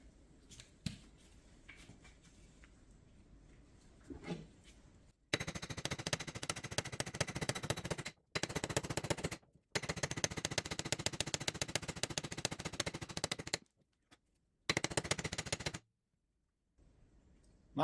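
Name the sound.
hammer pounding out wheel studs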